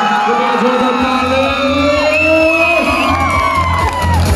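Festival crowd at a live concert roars and cheers loudly for a singer, a steady dense wash of voices and whoops with music tones ringing over it throughout.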